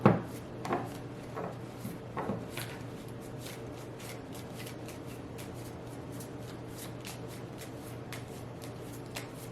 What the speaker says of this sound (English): No cards want to come out in this deck.